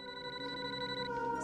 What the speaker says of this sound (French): le téléphone sonne enfin.